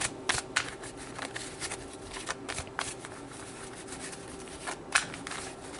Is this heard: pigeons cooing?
no